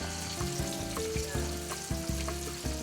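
Oysters fry in hot oil in a pan, a loud continuous sizzle with crackles and occasional scraping stirs, close up and with no voices.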